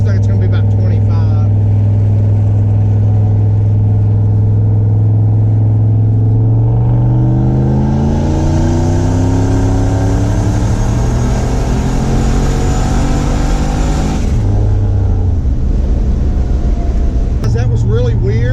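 A turbocharged LS-swapped C10 pickup truck accelerates hard in second gear from low revs, its engine note climbing steadily in a loud, continuous rumble, then dropping abruptly; someone talks over the sound.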